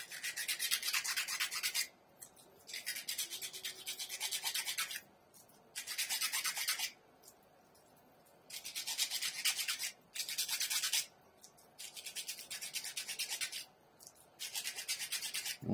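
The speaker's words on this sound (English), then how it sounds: "Let's scuff it up." Abrasive scuffing across the surface of a quarter-scale Hulk statue, heard up close as repeated bursts of gritty rubbing separated by short pauses, with no talking.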